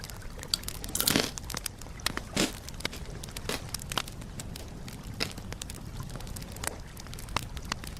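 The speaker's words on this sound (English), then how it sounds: "So beware of loud crunch." Crisp, loud crunches of a snack being bitten, a sharp burst near the one-second mark followed by a steady run of smaller crackling chews, close to the mic in a quiet room with no talking.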